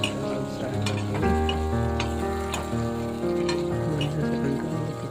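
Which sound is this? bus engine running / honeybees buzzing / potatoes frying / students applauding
potatoes frying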